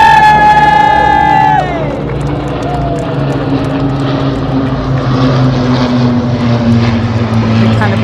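Loud Spitfire and Hurricane propeller engines drone and roar past close overhead at Trooping the Colour 2023, their pitch dropping as they go, with a crowd murmuring underneath.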